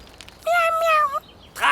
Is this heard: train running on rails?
no